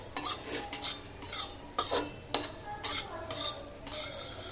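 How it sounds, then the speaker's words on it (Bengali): Sesame seeds dry-roasting in a wok, with repeated scraping and clinking stir strokes in an irregular rhythm over faint background crackle, close and fairly loud with no talking. "দেখো তিলটা আমার খুব ফাটছে"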